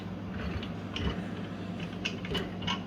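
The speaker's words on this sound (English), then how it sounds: "you'll do the same thing by just starting to tighten your screws down" Screws being tightened during installation of an LV-X power kit give a run of close mechanical ratcheting clicks and creaks over a low steady hum, with no speech.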